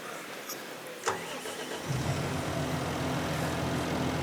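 Car in a farming simulator on the Zielonka map driving along a rural side road, a steady mid-pitched engine drone rising in after a brief click and holding constant to the end.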